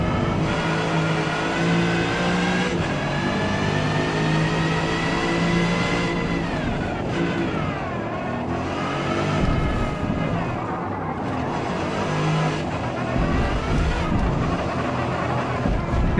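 A race car engine in Forza Motorsport revs continuously and loudly, with rising and falling harmonic pitch as gears shift, close and steady throughout with no talk.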